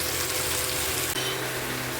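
Small mourala fish frying in hot oil, a loud, continuous close sizzle with a dense hiss that shifts slightly as the fish settle, and no talk.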